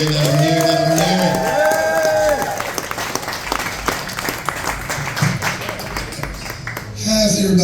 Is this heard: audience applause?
yes